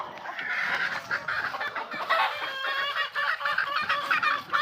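Chickens cluck and fighting cocks call continuously at close range on a Filipino gamefowl farm at feeding time, a dense, busy flock chorus with no talk over it.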